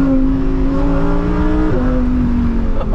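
A Lamborghini all-wheel-drive car revs hard on a winding road, its loud, close engine note climbing steadily through a gear before dipping and rising again.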